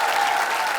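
Brief burst of studio audience applause on a Hindi TV show, dense clapping heard close and loud for under a second without any voice.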